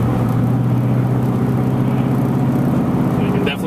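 A Ford Mustang fitted with an SLP exhaust runs while driving, giving a loud, steady low engine drone with a strong hum throughout, continuous and close, easing slightly at the very end.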